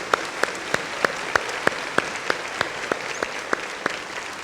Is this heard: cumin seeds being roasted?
no